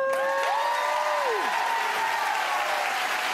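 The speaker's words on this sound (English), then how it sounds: "Thanks for the applause." Steady, loud studio-audience applause on a daytime TV health talk show fills the whole stretch, with a few sustained musical tones sliding over the clapping early on.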